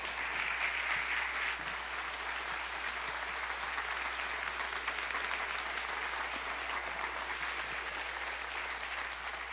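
A church congregation claps together in sustained applause, a dense, even patter of many hands filling the room, steady for several seconds.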